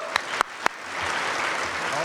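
A few sharp isolated claps at a tech conference talk, then a conference audience breaks into sustained applause that fills the room at a steady moderate level.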